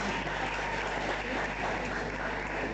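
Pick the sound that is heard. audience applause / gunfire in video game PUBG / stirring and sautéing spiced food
audience applause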